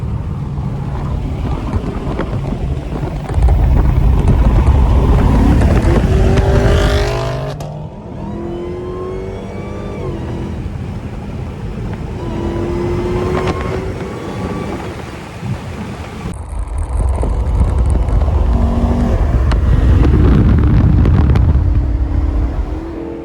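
A Dodge Hellcat cruises on a freeway, its engine drone and road roar loud inside the cabin, swelling and easing with heavy wind buffeting and a few gear-change sweeps.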